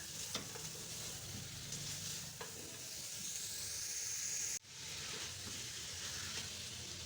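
Chicken meat sautés in a pan for chicken vegetable soup, making a steady, fairly faint sizzle and hiss with soft stirring scrapes, broken by a brief drop in sound partway through.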